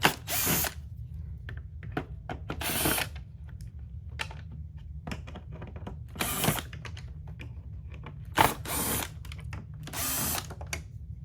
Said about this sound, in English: I'm using a drill, but you can use a normal Phillips head